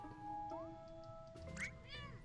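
A cat in the Imposter Factory video game gives a couple of short meows over steady game music and low background hum.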